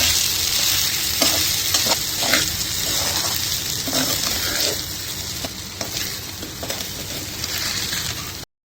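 Sabudana is stirred and mixed in a hot pan for khichdi, with salt and sugar added. A loud, steady sizzle carries on throughout, punctuated by repeated spatula scrapes and knocks, then cuts off abruptly at the end.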